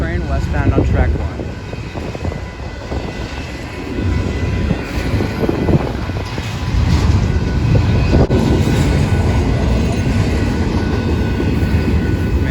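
A westbound train rolls past on track 1 at the Hannibal Sub, a loud, broad rumble of wheels and cars swelling and holding close, with voices talking over it.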